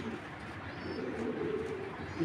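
Sapchila Giribaz pigeons cooing softly and steadily in a low murmur throughout, with faint background noise and no clear talk.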